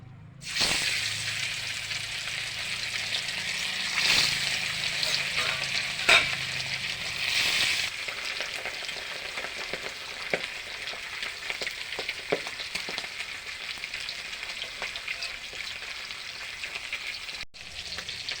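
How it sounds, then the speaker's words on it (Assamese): Fish sizzles loudly in hot oil in an Assamese-style fish curry, a steady bright crackle that runs the whole time, with occasional stirring clatter and short pops over it, close up and with no voices. "তেলখিনি পূৰা গৰম হৈ গৈছে। এতিয়া মই মাছ দিম।"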